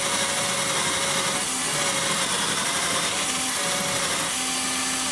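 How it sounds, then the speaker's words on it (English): A battery drill converted to mains power spins a wire brush against an old vintage brake to strip rust, giving a continuous loud, gritty whirring scrape with slight dips in pitch as pressure changes. "There she's running, and I've got an old vintage brake I'm polishing."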